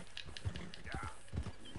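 Horse hooves clop in the video game Red Dead Redemption 2, a few uneven close footfalls with faint mechanical clinks, and a voice is partly heard underneath.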